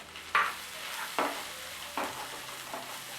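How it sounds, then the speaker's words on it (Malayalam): Sliced shallots frying in a pan, stirred in four evenly spaced scraping strokes over a soft, steady sizzle; close and fairly quiet, with no voices. "ഉള്ളി ഒന്ന് ലൈറ്റ് ബ്രൗൺ നിറം ആവുന്ന വരെ ഒന്ന് ഇളക്കി കൊടുക്കുക"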